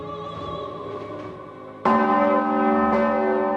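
A large church bell rings out in a Fribourg bell tower, with long ringing tones and two fresh strikes, loud and close, decaying between hits.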